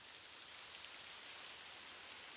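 Heavy pouring rain in a street makes a steady, dense hiss of drops with no break and no voices, sounding fairly close and even throughout.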